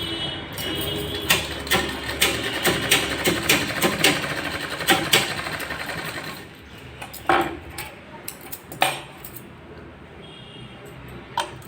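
A sewing machine stitching a lined blouse runs in rhythmic, clattering bursts, pausing and restarting, with ticking mechanical clicks close by.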